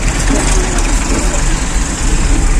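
Tractor engine running steadily at a Sindhi cultural tractor and camel rally in Mithi, Thar, a loud continuous low rumble with broadband noise filling the whole stretch, voices in the background.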